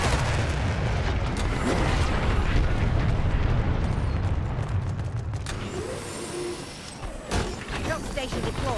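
Heavy rumbling explosions from fire support in the Dirty Bomb shooter game roll on continuously as a dense, booming wash, with sharper bursts near the end and a player talking over the din.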